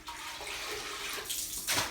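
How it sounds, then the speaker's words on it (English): Water and floor cleaner splash heavily over a floor before mopping, a close, rushing wash that thickens and grows louder toward the end of the short burst, with no talking. "So let's drench these floors."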